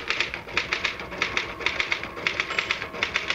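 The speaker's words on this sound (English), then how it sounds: "Just hit the typewriter, Harry." Rapid clacking keystrokes on a manual typewriter, a steady stream of crisp, close taps over a faint hum, with no voices.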